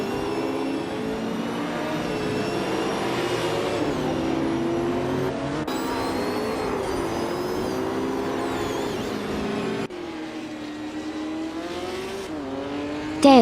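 Race cars howling around a track in a racing video game, continuous close engine drone with shifting pitch as revs rise and fall, a few abrupt gear-change breaks, no voices.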